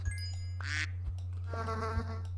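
Cartoonish duck quacks from the Super Auto Pets video game as a duck is sold, two short bursts heard clearly over a steady low electrical hum, with no talking.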